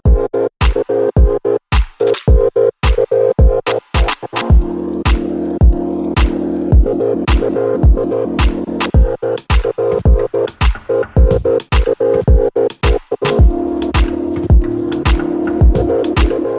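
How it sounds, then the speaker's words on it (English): A steel hood bracket for a 1979 Grand Prix hood-hinge mod is ground in a shop: a steady motor hum and drone run throughout, broken by many sharp, loud clicks and bursts at an irregular rhythm. "So I'm gonna do my grinding on the other side of the shop."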